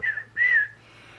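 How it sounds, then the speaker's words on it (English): Two clear whistled notes, a short one then a longer sustained tone, fairly close with a quiet pause after. "Farmer Brown's boy was whistling as he pounded"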